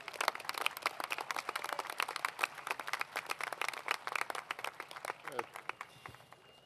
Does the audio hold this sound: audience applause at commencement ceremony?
yes